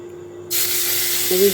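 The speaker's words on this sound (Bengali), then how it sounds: "অল্প তেলের মধ্যে এবার যে আমি শালুক ডাঁটাটা ছিল সেটা দিয়ে দেবো দিয়ে একটু নেড়ে নেবো" Water lily stalks dropped into a little hot oil left from frying prawns, a sudden loud steaming hiss that bursts in and keeps sizzling steadily, with a faint tone humming underneath.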